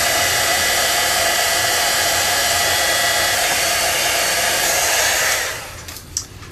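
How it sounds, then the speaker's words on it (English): Heat tool blowing hot air to melt and set embossing powder on a handmade thank-you card, a loud steady roaring whoosh that holds for over five seconds and then cuts off, leaving faint room noise. "so now we're going to go ahead and heat set that with the heat tool."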